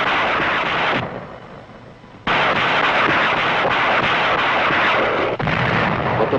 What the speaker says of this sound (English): Rockets were effective.